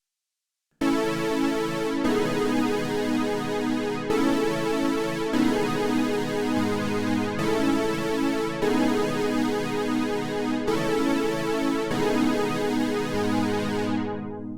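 Juno 106 SynthPad 1984 patch playing a sustained chord progression, rich layered pad chords changing every second or two, steady and full, with a low bass tone beneath and a soft fade at the end.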